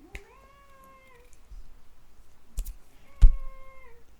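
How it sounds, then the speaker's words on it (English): Two clear cat meows, one near the start and another about three seconds later, each long and drawn out, with a few soft thumps between them. "My cat's just entered the room."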